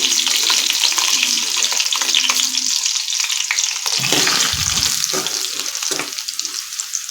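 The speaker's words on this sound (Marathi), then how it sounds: "हे थोडंसं लालसर होईपर्यंत परतून घ्यायचं आहे आलं लसूण आणि खोबरं आहे तो ते लालसर होईपर्यंत परतून घ्यायचं आहे" Grated coconut, garlic and ginger fry in a pan with green chillies, a steady close sizzle with occasional stirring scrapes throughout, no talk.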